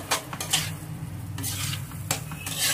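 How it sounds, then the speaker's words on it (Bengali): Potatoes and eggplant fry in a pan with greens, stirred with a utensil in several distinct scraping bursts over a soft, steady sizzle; no voices. "এর ভিতরে এখন আমি এই আলু বেগুন গুলো ছেড়ে দিলাম।"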